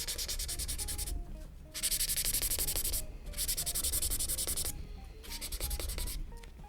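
Masking medium is rubbed hard on paper in repeated scrubbing strokes, a raspy rhythmic friction in bursts separated by brief pauses, close and clear with no talking.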